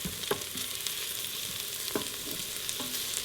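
Minced garlic and ground turmeric frying in a pan, giving a steady sizzle with a few soft stirring scrapes spread through it.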